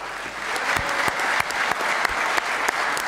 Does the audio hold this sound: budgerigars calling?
no